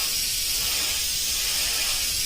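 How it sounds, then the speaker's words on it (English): A paint spray gun hisses in one steady, unbroken blast, close and fairly loud, with no voices over it. "make sure your gun's spraying right"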